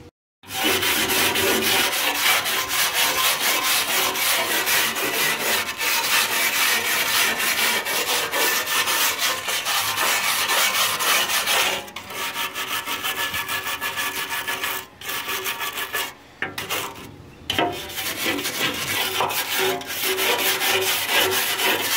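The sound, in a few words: scrubbing clean a BBQ pit smoker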